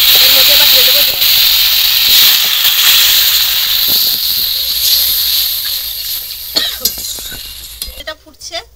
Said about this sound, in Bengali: এর মধ্যে এবার দিয়ে দেবো জল।